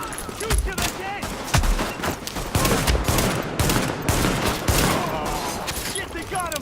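Gunfire in the video game The Division, with repeated loud bursts and sharp single shots spread through a sustained firefight, with voices shouting between them.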